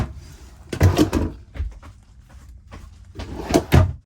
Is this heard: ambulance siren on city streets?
no